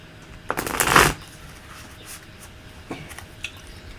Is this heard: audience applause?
no